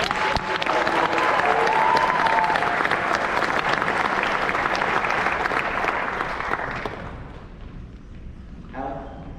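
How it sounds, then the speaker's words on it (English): A university pageant audience applauds its Mr and Miss contestants in a long, loud, sustained burst of clapping that fades toward the end, followed by a few faint voices. "Let's give our contestants one more round of applause"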